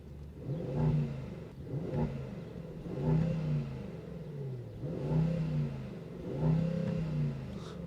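A 2023 Brabus GLS 900 with its 900 hp engine revs repeatedly in Sport mode, five rising and falling bursts in a steady rhythm, loud and close with no talk over them.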